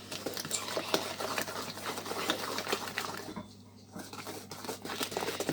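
Egg being mixed by hand into lemon and almond cake batter, a steady run of soft wet stirring and scraping strokes in a bowl with a brief pause near the end, no talk.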